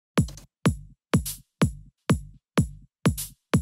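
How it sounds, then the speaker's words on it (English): A groove shaker sample in a progressive house track plays a MIDI pattern alone, eight crisp, evenly spaced hits with short decays at a steady pulse. "We've got this groove shaker, which is playing right from the start."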